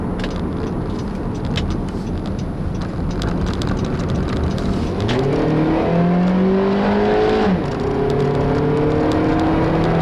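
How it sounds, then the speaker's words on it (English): A 2012 Honda Civic EX-L's 1.8-liter engine revs up hard toward the red line, its pitch climbing in a strained rising whine, heard loud and close from inside the vehicle. "It makes a nasty noise at the red line."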